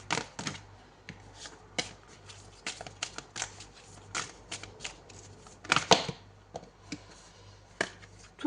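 Tarot cards are shuffled and drawn by hand in a quiet indoor setting, giving steady, close riffling and soft snapping flicks, with a louder burst near the end.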